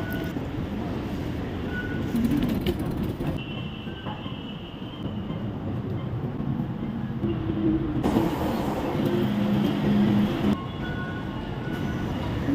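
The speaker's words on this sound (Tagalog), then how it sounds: "balik ulit tayo sa loob ng tren kasi marami tayong pinamili" Inside a moving train, a continuous rumble of wheels on track fills the car, with occasional high squeals from the wheels and shifts in the noise as the carriage passes through different sections.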